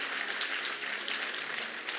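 Keynote audience at a leadership conference applauding together, a steady dense wash of clapping heard at moderate distance, unbroken across the whole stretch without any voice over it.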